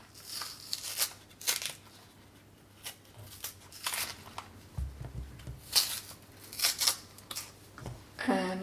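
Plantain skin is peeled away by hand after being scored, producing soft, irregular tearing and crackling bursts close up, separated by short pauses, with a brief low thump partway through.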